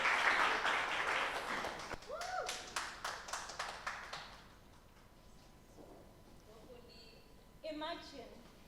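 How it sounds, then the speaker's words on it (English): An audience applauds a presenter called up at a university research week Three Minute Thesis competition, a dense clapping crowd fading out after a few seconds, with a voice speaking faintly afterward. "Please give her a round of applause."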